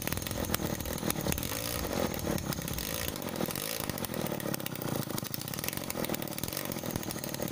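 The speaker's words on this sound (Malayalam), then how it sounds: "ഫസ്റ്റ് കിക്കിൽ തന്നെ സ്കൂട്ടർ സ്റ്റാർട്ട് ആയിട്ടുണ്ട്." A Bajaj Sunny scooter's small two-stroke engine running just after a kick start, a loud, close, buzzing rattle at steady idle with a slight exhaust leak.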